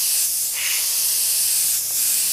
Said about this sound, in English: I'm going to go ahead and switch back to the white and spray out some of the blue that was in there.